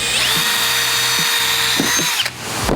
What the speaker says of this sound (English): I'm gonna drill a bung hole in said aluminum tube